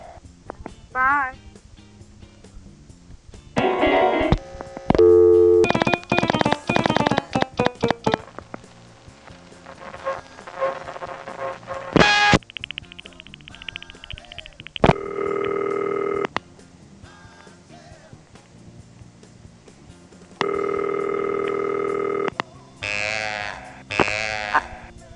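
Telephone dialing tones on a party line sound in short bursts, mixed with longer steady electronic tones that resemble a busy signal, separated by gaps of line noise.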